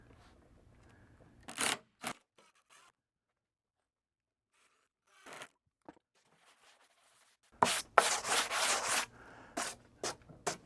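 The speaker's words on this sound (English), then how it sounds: "Just enough to snug it, and then I'll go back and sand down." Plywood being hand-sanded for an RC monster truck backflip ramp: a few short scraping bursts, a long pause, then a louder run of rapid back-and-forth rubbing strokes near the end.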